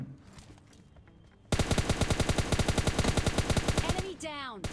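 Rapid automatic gunfire in a battle royale video game: a long, loud burst of evenly spaced shots, dense and close, ending with a few ringing ricochet-like tones.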